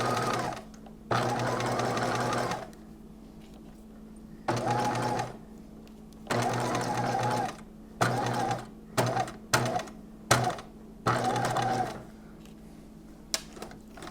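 A home sewing machine stitches a foundations slip garment in several sustained runs, then a burst of short, choppy back-and-forth stitches as it back stitches. The stitching is close and steady, with quiet pauses between runs.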